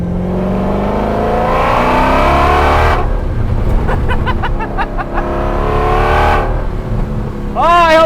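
A Ford GT40 race car engine revs and pulls while driving, loud and close, with rising and falling harmonic sweeps as it climbs through the revs and a sharp high rev at the end.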